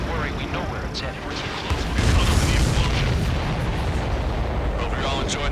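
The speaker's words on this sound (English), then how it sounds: "Did you see that explosion?" A supply ship explodes in the Ace Combat 7 flight game, a deep rumbling boom that swells after about two seconds and rolls on heavily beneath sustained jet and engine roar.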